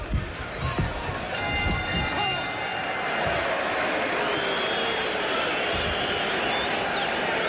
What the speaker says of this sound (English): the crowd is applauding the courage of Steve Zalski as much as they're applauding the efforts of Mike Tyson